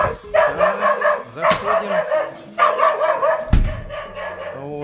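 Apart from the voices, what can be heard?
dog barking at arriving visitors on a farm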